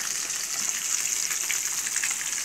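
Small lambari fish fry in hot oil in a home kitchen, giving a continuous bright, hissing sizzle with light crackles that stays steady and close throughout.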